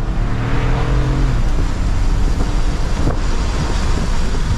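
A 2023 Mini Cooper Convertible is driven in sport mode in second gear. Its engine drone and road rumble run loud and continuous, with heavy wind buffeting across the microphone and no speech.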